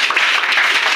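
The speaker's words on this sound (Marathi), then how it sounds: "यशपालसाठी टाळ्या वाजवा" Schoolchildren clap together for a classmate named Yashpal, a thick, even wash of many hands at full volume with no pauses or voices.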